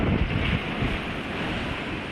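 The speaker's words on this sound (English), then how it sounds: "huge wind sprung up" Strong wind blows outdoors along a rural rail trail in New Zealand, a loud, steady roar buffeting the microphone with no voices.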